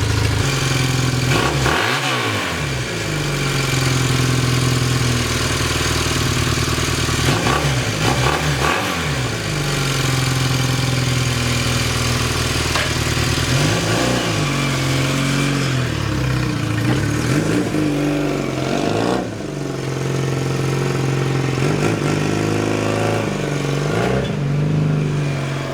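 A retro motorcycle, recently repaired after trouble starting and backfiring, idles steadily with several throaty revs swelling and fading at close range, no voices over it.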